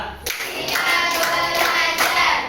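Students in a class clap in unison to a counted pattern, a run of sharp, loud group claps in steady rhythm, recorded close in the room.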